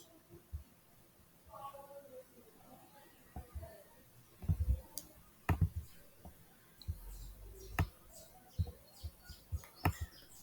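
Mouse clicks while working in a restaurant reservation program, sharp separate clicks arriving irregularly, some in quick pairs, over a faint room background.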